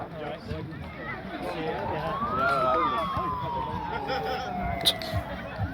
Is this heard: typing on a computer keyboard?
no